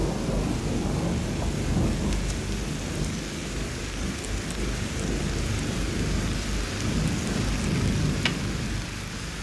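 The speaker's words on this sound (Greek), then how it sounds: "Έβρεχε." Steady, heavy rain pours down on a night street, a dense continuous wash of drops with a low rumble beneath it, holding evenly from start to finish with no voices.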